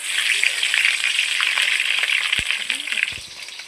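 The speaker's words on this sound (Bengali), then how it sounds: "প্রথমে আমি ফুলকপিগুলো ভেজে নেবো লাল করে।" Cauliflower florets frying in hot oil in a pan give a steady, close broadband sizzle that runs throughout, with a few soft clinks and thuds near the end.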